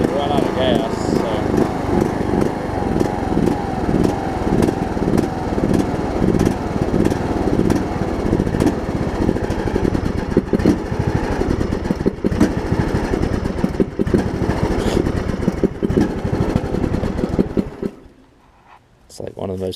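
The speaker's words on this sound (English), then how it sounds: "It's like one of the most pitiful idles I've ever heard." A John Deere LA105 lawn tractor engine idles roughly with a loud, uneven, sputtering putter for most of the clip, then cuts out abruptly near the end.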